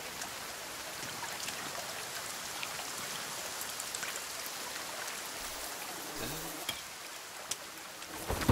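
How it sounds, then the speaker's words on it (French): Soft, continuous rain patters in the video game The Forest, a quiet, even hiss with scattered drips and a couple of low thuds near the end. "Oh mais il pleut"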